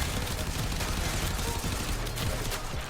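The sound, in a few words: Acceltra weapon firing in Warframe video game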